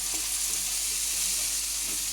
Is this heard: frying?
yes